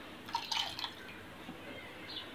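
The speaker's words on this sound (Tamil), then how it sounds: "இதில் ஒரு 1/2 டம்ளர் வந்து தண்ணி ஊற்றிக்கங்க" A soft, brief splash and trickle of half a tumbler of water being poured into a pot of pepper rasam, close by and fairly quiet, fading into faint background hiss.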